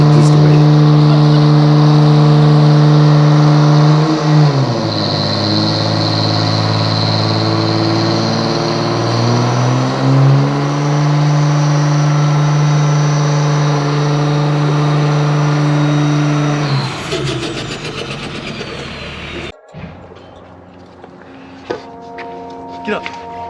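A stock Cummins diesel truck engine revs loud and close, its deep drone rising and falling in pitch several times before it cuts off, leaving scattered knocks and clatter.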